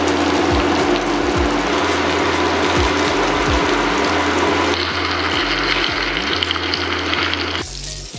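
Chicken pieces sizzle and fry in a hot pan for a creamy Cajun chicken dish, a loud, steady crackle with a low mechanical rattle underneath that drops away near the end.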